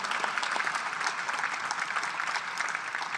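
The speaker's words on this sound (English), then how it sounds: "let me give that a round of applause" Applause at a Rutgers press conference introducing a new women's basketball head coach, steady moderately distant clapping from an audience for about three seconds with no talk over it.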